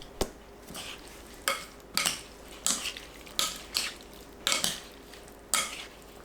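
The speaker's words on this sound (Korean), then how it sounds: "야채 넣고 버무립니다" Vegetables and potato are tossed by hand in a chili oil seasoning of soy sauce, vinegar and sugar, giving a series of regular wet squelching, clacking mixing strokes about once a second, close up.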